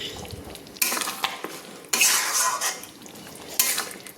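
Coriander leaf paste stirred into chicken curry in a pan, with three bursts of scraping, clattering spatula strokes against the metal over a soft, steady sizzle.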